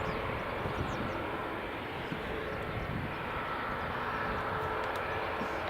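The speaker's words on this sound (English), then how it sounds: "that's the Max just taxiing there" A Boeing 737 Max taxiing at an airport, heard as a steady, distant broadband jet engine roar with a continuous low rumble and no talking.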